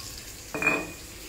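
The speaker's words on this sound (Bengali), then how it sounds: "হালকা একটু পোড়া পোড়া করে নিচ্ছি" A short, soft scrape and sizzle in a pan as food is lightly charred in mustard oil, one brief burst of stirring clatter between quiet stretches.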